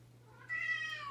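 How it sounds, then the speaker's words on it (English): A cat out in a hallway gives one brief, clear meow that rises and then fades, heard over a low steady hum. "that was the cat from out in the hallway"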